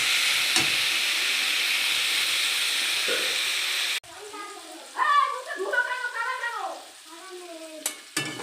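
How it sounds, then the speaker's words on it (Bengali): Vegetables fry in a pan with a bright, loud sizzle for about four seconds, then it cuts to a quieter passage with a tonal, voice-like sound over faint pan noise. "দিলাম ভালোভাবে ভাজা করে নেব সবজিটাকে"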